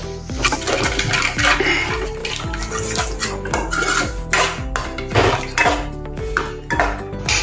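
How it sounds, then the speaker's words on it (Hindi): Ingredients for chakolya dal are mixed in a metal pot, with loud, busy clattering and scraping of a utensil against the vessel throughout, close and continuous with no talk. "अच्छे से मिक्स कर लेंगे।"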